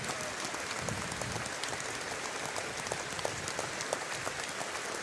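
Stadium crowd at a Munster v Barbarians rugby match standing and applauding, a steady dense wash of clapping that holds evenly throughout with scattered sharper claps.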